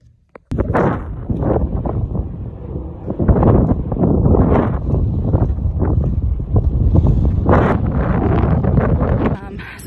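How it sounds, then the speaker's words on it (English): Wind buffeting a microphone outdoors during a run, loud irregular gusty rumbles that rise and fall after a quiet start and continue steadily, masking other sounds. "there's a nice breeze out"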